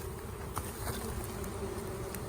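Utah honey bees fanning at the bottom of a hive entrance, making a dense, constant buzzing hum that is steady and close without any voices.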